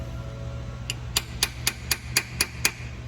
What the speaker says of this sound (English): So when you're tapping on it, listen to it.